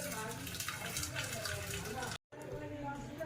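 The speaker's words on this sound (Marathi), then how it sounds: "ह्या डाळीचं पाणी पूर्ण मी हे निथळून घेते।" Cooking water is drained from boiled chana dal in a steady, continuous pour of liquid with one brief gap of silence, fairly faint overall.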